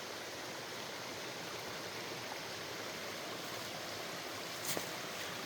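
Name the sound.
creek water flowing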